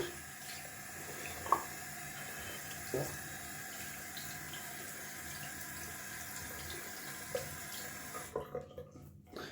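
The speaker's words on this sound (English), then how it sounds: "Sorry about the running tap." Tap water running into a bathroom sink while a soap container is rinsed, a steady moderate rush with a few splashes and knocks, ending in uneven dribbles as the flow is shut off, with no voices.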